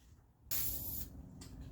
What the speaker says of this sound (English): I'm going to try and spray it in a different direction than I sprayed the first coat